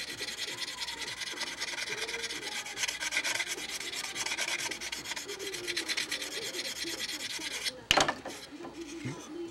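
Sanding tool scraping a Windy 707 model airplane part in rapid rasping strokes, close and steady for about eight seconds before a sharp clack and a brief pause.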